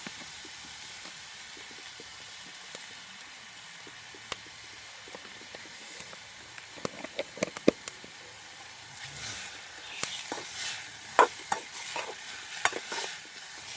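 Squid is tossed with powdered salt in a pan, with soft scattered clicks and scrapes of stirring over a faint sizzle, growing busier and louder toward the end.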